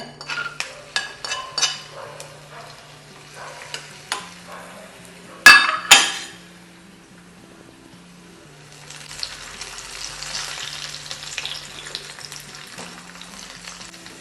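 Raisins cooking in ghee in a pan sizzle softly after several clinks and a sharp metallic clatter of utensils, the frying hiss building steadily and staying close and moderately loud.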